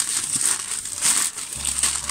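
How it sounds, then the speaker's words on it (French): Newspaper is crumpled and spread over stored potatoes, a close run of crisp crinkling bursts with brief pauses and a low hum near the end, with no speech over it. "du papier journal par-dessus."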